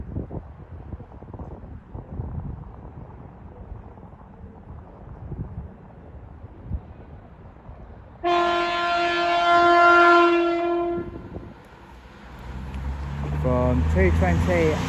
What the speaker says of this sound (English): Soon to come over the points now will be a cross-country Voyager service going from Bournemouth to Manchester Piccadilly.